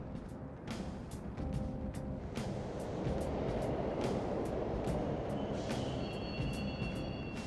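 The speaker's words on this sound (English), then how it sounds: "The trains are totally running!" A subway train rumbles through a station in Persona 5 Royal, a loud, continuous rolling roar with sharp clanks and wheel squeals near the end, heard alone without talk.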